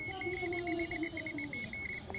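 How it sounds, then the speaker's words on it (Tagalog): A continuity tester gives a steady series of short, high electronic beeps, repeating rapidly and evenly, close and clear over a low background hum. "pakinggan yung beep sounds dito sa isa"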